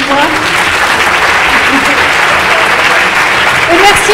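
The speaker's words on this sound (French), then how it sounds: "On a le droit d'applaudir à la fin." Loud, dense applause from a conference audience at a French lecture, a continuous roar of clapping lasting the full four seconds, with a few voices faintly mixed in.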